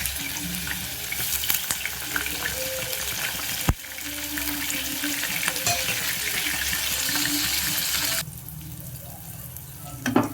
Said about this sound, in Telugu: ఇవైతే బాగా వేగిపోవాలి ఇది బాగా బ్రౌన్ కలర్లో వేగిపోతుంది ఎండి చేప అనేది